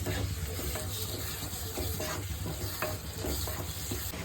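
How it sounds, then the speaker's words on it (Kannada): Spices frying in a pan while mushroom Maggi noodles are made, a steady close sizzle with light stirring scrapes throughout and no talk. "ಎಲ್ಲ ಮಸಾಲೆ ಹಾಕಿದ್ಮೇಲೆ ಚೆನ್ನಾಗಿ ಈಗ ಫ್ರೈ ಮಾಡ್ಕೊಳ್ಳೋಣ"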